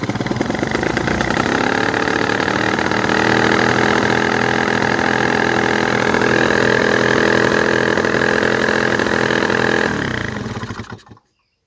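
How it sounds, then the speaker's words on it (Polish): A 2020 Motoroma RK 180/45 paramotor engine runs with a loud, steady drone for about ten seconds before winding down and stopping, with no voices over it. "Teraz pokażę wam, jak odpala motoroma od śmigła."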